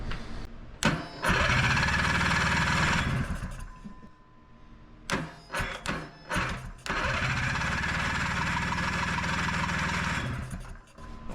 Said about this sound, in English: So let me just crank it and see if we get fuel coming.